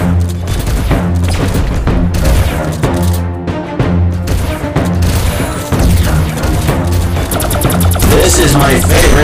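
Rapid gunfire from the player's favorite gun in the video game Thetan Arena, loud dense bursts of shots layered over pounding game music and effects throughout.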